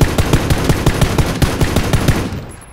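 Rapid automatic gunfire from a PUBG battle royale match, a dense rattling burst of shots fired in quick succession that stays loud and close for several seconds, then tapers off.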